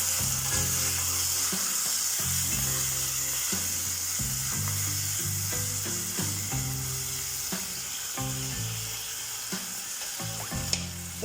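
Chilli chicken sizzles steadily in a frying pan as vinegar and green chilli sauce are stirred through, with soft scraping of the stirring under background music.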